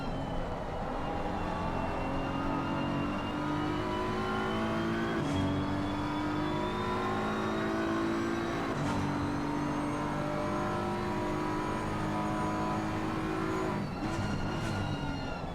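A BMW M6 GT3 race car with a 4.4-liter V8 of 580 horsepower lapping the Nürburgring, its engine droning steadily from inside the car with rising and falling revs and a few sharp gear changes, no voices.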